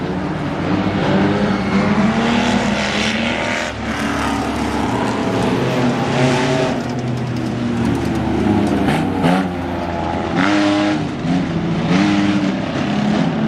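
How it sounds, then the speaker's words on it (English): Race car engines roar loudly and continuously at a short-track Langley Speedway event, one car's engine stuttering on the front straightaway while the pitch and intensity of the pack swell and dip around it. "his car is stuttering here on the front straightaway"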